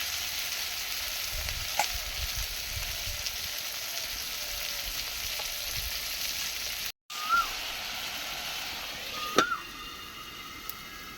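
Lote fish frying in a pan, a softer even sizzle of oil under low rumbling handling noises and occasional scrapes or taps, broken by a short gap, then continuing with a sharper clink near the end.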